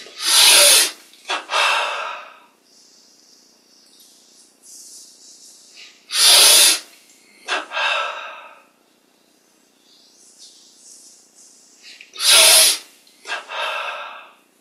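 Three slow, deep breaths during a guided meditation, each a loud, close, airy inhale followed by a softer release, repeated about every six seconds with quiet stretches between.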